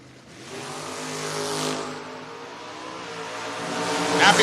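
Drag racing cars launch off the starting line at a door-wars event, one entry a 1980 Camaro, engines roaring loudly and steadily building as they pull away, with a sharper high-pitched rise near the end.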